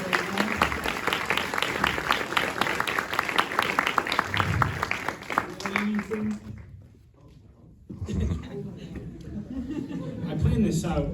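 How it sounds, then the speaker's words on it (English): Audience applause with some laughter at a film Q&A screening for Nickel Boys, a room full of clapping that thins out midway, then resumes under talk. "We get a big round of applause for Nickel Boys"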